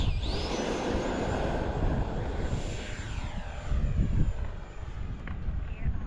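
An FMS 70mm EDF model jet takes off, its electric ducted fan giving a loud, sustained rushing whine that swells with throttle and carries broadband wind noise, with no speech.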